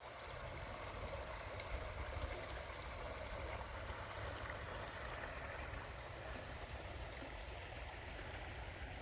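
A creek flows at Mt. Gilead State Park with a steady, soft, even rush of moving water heard from nearby, alone and without voices.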